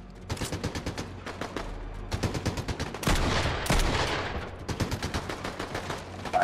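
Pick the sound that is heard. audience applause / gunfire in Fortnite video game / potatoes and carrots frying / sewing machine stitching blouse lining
gunfire in Fortnite video game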